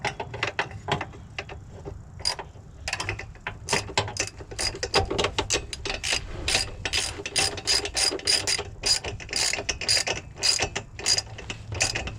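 Ratcheting wrench tightening the bolt on a solid shifter bushing of a 1999 Honda Civic, a rapid run of close, loud mechanical clicks going on steadily for several seconds with no talk.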